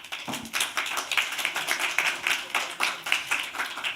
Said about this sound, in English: Please, a round of applause for our guest.